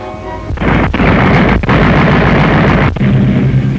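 An aircraft gunner's machine gun firing during 1940 Canadian air training, heard as a loud, continuous roaring burst with a few brief breaks, dense and harsh on an old film soundtrack.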